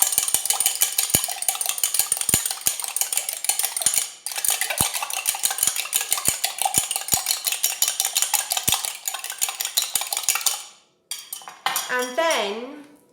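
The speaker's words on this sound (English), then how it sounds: "beat your eggs with a fork" A fork beating eggs in a bowl for a quiche, rapid rhythmic metallic clicking against the dish for about ten seconds, close and loud, then a brief pause and a few final scrapes.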